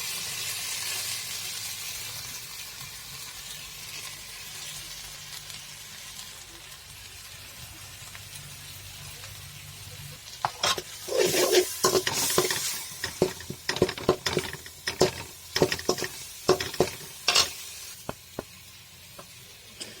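Turmeric, chilli, cumin, coriander and meat masala frying in a pan for pea curry, a steady low sizzle at first, then a spoon scraping and stirring in irregular clattering bursts, close and clear with no talk.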